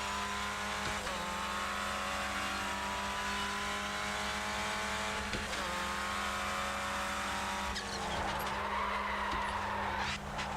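Tyres of a Clio Cup race car lock up under braking in iRacing, a steady engine drone with faint tyre squeal and scrubbing building near the end, no voices.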